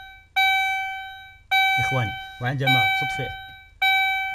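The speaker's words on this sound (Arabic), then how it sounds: "هذا المنبه إخواني يستعمل لي عندما تقوم بنسيان الأضواء مشتعلة، يقوم بإحداث رنة بهذا الشكل" A car's lights-left-on warning buzzer sounds three separate sustained electronic beeps, loud and close, with someone speaking in the gaps between them.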